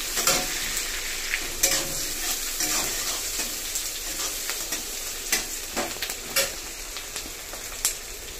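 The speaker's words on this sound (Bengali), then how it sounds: "পেঁয়াজ লঙ্কাটা এখানে দিয়ে দিয়েছি।" Onion and chili frying in oil alongside an egg, a close crackling sizzle with repeated rhythmic spatula stirs and scrapes against the pan.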